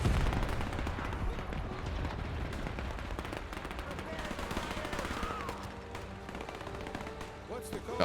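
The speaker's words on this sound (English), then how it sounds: "That tank crew is just getting gunned down." Machine gun fire in the World War II strategy game Men of War II: dense, continuous battlefield crackle of rapid automatic bursts mixed with distant booms, steady and moderately loud throughout.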